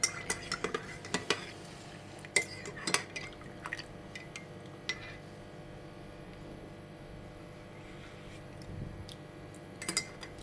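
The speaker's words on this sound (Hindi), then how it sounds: "और अब हम इसको ज़रा चम्मच चलाएंगे।" A spoon stirs Kashmiri tea, clinking sharply against the cup in quick clusters at the start and near the end, with quieter liquid swishing in between and no talk.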